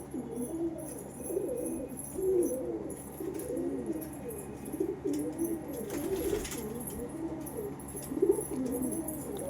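Pigeons coo in a loft, a steady overlapping murmur of soft low calls close by, with occasional wing shuffles and a brief flutter of movement partway through.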